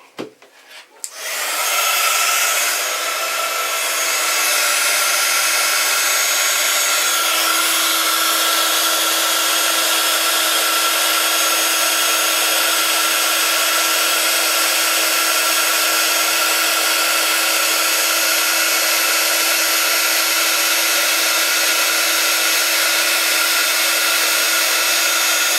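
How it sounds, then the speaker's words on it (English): Heat gun used for heat embossing a card: a few clicks, then it switches on and a loud, steady rushing blower whine runs close and unbroken for over twenty seconds, with no talking. "Doesn't look as bright just before you heat emboss, but when you heat emboss it makes it quite striking"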